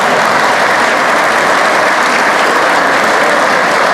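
Steady, dense applause fills a hall during a state of the state address, loud and continuous for several seconds with no talking.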